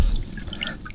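Water drips in a few quick, faint, close plinks over a quiet background.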